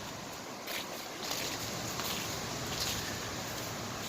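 Steady breezy-morning wind blowing outdoors, a broad continuous rush that swells slightly after the first second and holds at a fairly even, moderate level with no talk.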